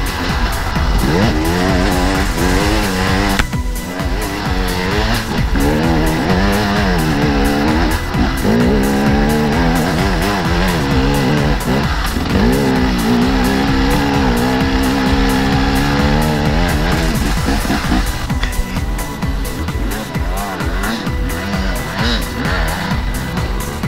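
A trials-style enduro motorcycle climbs a steep muddy slope, its engine loud and close, revving and surging in long rising and falling waves with brief throttle blips, continuous throughout.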